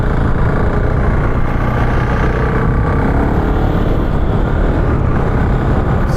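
A GasGas 700 motorcycle engine roars steadily and loudly up close as the bike lifts into a wheelie, a continuous rough drone with wind buffeting throughout.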